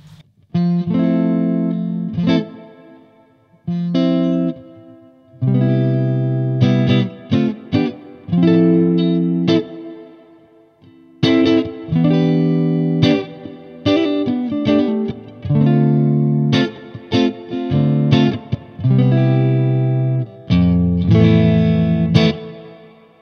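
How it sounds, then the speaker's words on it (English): An electric guitar plays loud, distorted chords and riffs through a Bad Cat Cub 40R amplifier, with a wash of built-in digital reverb trailing each phrase and short pauses between. "Then they got a built-in reverb. It's a digital reverb."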